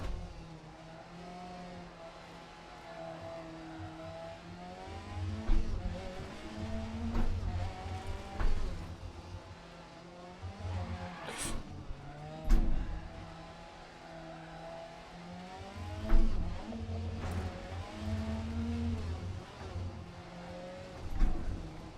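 Rally car engine in Dirt Rally 2.0 revs and climbs through gears, rising and falling in repeated surges with brief peaks, loud and steady throughout with no talking.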